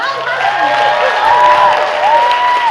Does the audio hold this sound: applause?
yes